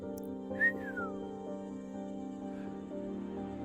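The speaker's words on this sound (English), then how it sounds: "whistles out the window." A person whistles a short melodic phrase with a quick sliding note, close and clear, over a steady droning hum in the background.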